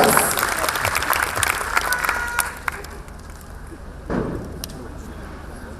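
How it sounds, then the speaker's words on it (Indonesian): Audience applause at the Teruna Teruni Bali 2016 grand final as the top three are presented, a dense crowd clapping that is strong at first, then thins and swells again briefly near the end. "berikan aplaus yang meriah inilah dia 3 besar Truni Bali"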